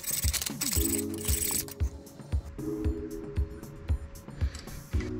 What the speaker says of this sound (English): The world's bluntest hacksaw, but it should do the job.